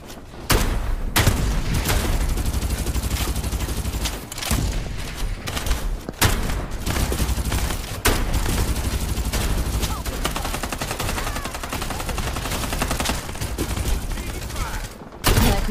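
Rapid gunfire bursts in the video game Farlight 84, with dense repeated automatic shots and a few brief pauses, loud and nearly continuous over roughly fifteen seconds.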